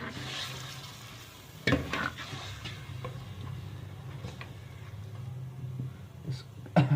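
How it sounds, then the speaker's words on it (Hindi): Chicken qorma with coriander, red chilli, garam masala and turmeric being stirred in a pan, soft sizzle beneath a low hum, with a few spoon scrapes and knocks, quiet and close. "इसको थोड़ा सा हिलाएंगे।"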